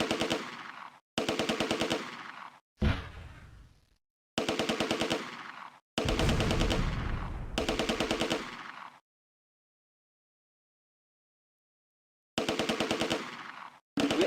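MG42 machine gun fire in the Close Combat: A Bridge Too Far war strategy game, several rapid bursts of hard, ripping automatic fire lasting one to three seconds each, separated by short gaps and one long silence, close and loud.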